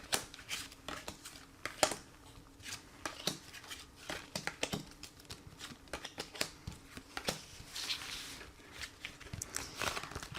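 Oracle cards shuffled by hand for a card reading: soft, quick papery riffles and flicks repeating steadily, faint and close, with no talk over them.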